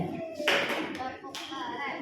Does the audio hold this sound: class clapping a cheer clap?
yes